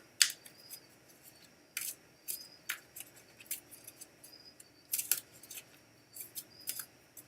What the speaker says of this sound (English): So I am shuffling.